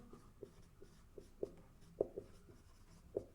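Chalk or marker strokes on a classroom board as Qc is written: a quiet series of short, sharp taps and scratches at an uneven rhythm, close by, with no talking.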